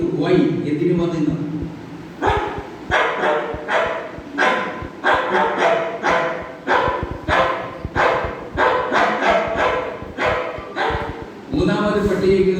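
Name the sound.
person imitating a dog barking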